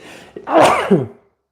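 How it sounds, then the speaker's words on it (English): A single loud sneeze up close, a sharp burst that trails off into a brief exhale before silence. "Need to sneeze."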